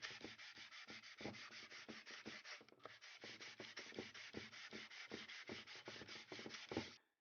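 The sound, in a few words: sanding dirt bike engine case gasket surface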